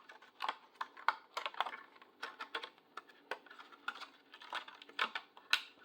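Plastic box protector cases being popped and folded, producing a steady series of soft crisp clicks and crinkly taps at close range, irregular and quiet with no talk.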